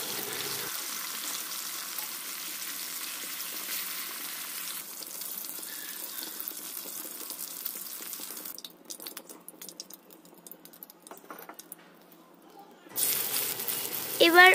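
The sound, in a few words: frying rohu fish in oil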